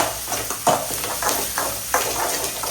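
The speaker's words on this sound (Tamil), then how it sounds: "இந்த வெங்காயம் நல்லா கோல்டன் ப்ரௌன் வர வரைக்கும் நம்ம வதக்கிக்கலாம்." Onions for a duck fry sauté in a pan, giving a soft, steady sizzle broken by a few scraping stirs. The sound is close and moderate, with no talk.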